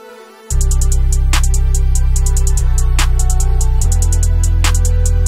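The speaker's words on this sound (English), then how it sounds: "And so far, all your melodies in the intro sound like this." Synth melodies built in FL Studio from the Shark Boy lead kit and Serum play over a heavy sustained bass drone. Bright repeating lead stabs and occasional crashes form a loud, steady, dense loop with no voices.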